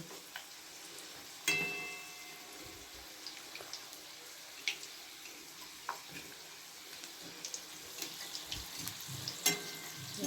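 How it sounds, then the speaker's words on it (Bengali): Chicken cutlets fry in oil over low to medium heat, a steady close crackling sizzle with frequent small pops and occasional louder spatters, continuous throughout with no talk. "সুন্দর করে তেলে ভাজা হচ্ছে এখন"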